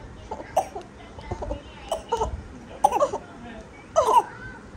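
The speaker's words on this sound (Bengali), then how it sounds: "কি ঢঙের কাশি শিখেছে" A small child gives a few short, put-on coughs in scattered bursts, close by, with adult voices talking around them.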